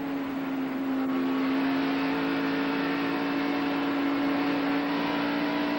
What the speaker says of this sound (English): You hear that Keith Allman engine coming up to full song as he goes down the backstretch.